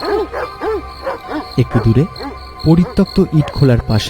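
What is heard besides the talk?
many dogs barking together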